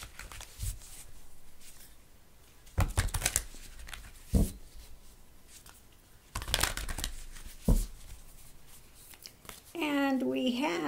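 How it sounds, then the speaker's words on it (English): Oracle cards being ruffle-shuffled by hand, giving a few brief riffling and flapping bursts between quieter handling, close and moderately loud, with someone speaking softly around them. "Give these a ruffle shuffle here."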